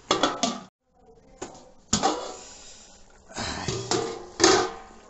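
A lid set onto a pot of restaurant-style chicken gravy, with repeated metallic clanks and knocks of cookware in close, fairly loud bursts over a low simmering background.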